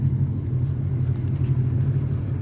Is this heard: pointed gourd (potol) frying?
no